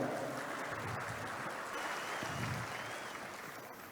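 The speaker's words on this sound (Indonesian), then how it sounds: "Tepuk tangan juga." Audience applause at a Partai Demokrat ceremony installing DPC officials in East Java, a steady dense wash of clapping from a crowd filling the hall, holding strong throughout before tapering slightly.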